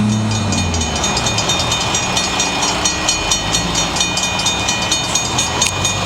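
A train rolls through a malfunctioning railroad crossing in Traverse City, Michigan, with a steady loud rumble of wagons, faint rhythmic clatter and a persistent high ringing tone from the crossing signal throughout.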